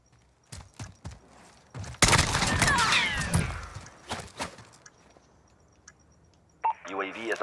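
Rifle shots from an SKS in a first-person shooter video game, a burst of sharp reports around two seconds in, followed by scattered game sounds and a voice talking.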